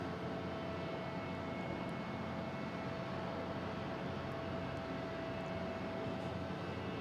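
A retro-livery JetBlue airliner departs Boston Logan, its engines producing a steady, distant broadband roar that holds evenly throughout.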